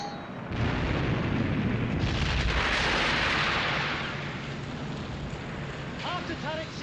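Warship turret guns fire during a naval battle in World War II, a heavy roaring blast that swells and rumbles for several seconds before fading into a lower din, with a voice briefly heard after.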